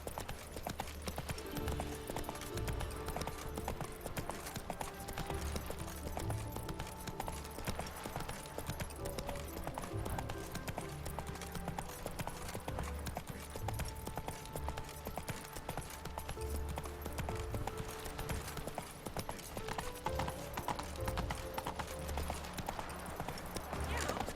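Hoofbeats of Roach, Geralt's horse in The Witcher 3, clip-clopping steadily at a walking pace through the open world, close and continuous, with faint talk and game ambience underneath.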